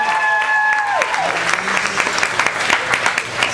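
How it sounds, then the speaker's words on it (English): Comedy club audience breaking into sustained applause, a dense clatter of claps with some cheering, as a voice trails off at the start. "Clap it up if you're having a good time."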